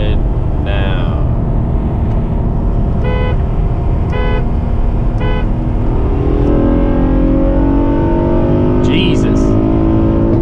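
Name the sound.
car accelerating at high speed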